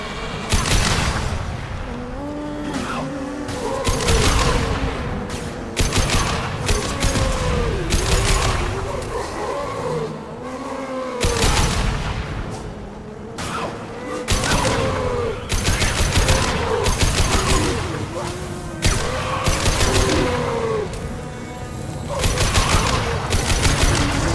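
Rifle fire rattles in rapid bursts during a Mass Effect 2 firefight, loud and continuous with repeated volleys, brief gaps and a voice speaking between shots.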